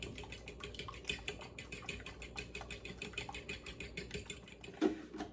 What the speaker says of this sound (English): We're gonna whisk this all together.